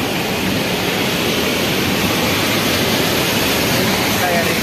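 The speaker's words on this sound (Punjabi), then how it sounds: "ਇਹਨੂੰ ਵਾਟਰਫਾਲ ਕਹੀਏ ਕੀ ਕਹੀਏ ਪਤਾ ਨਹੀਂ" A mountain waterfall near Baralacha in Leh Ladakh gives off a constant, loud roar of rushing water. The broad hiss holds steady throughout.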